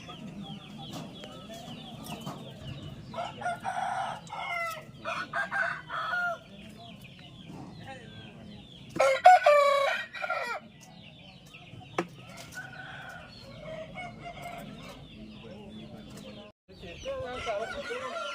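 Roosters crow and hens cluck at a village-fair cockfight; one loud, close crow rises above ongoing clucking while people talk in the background.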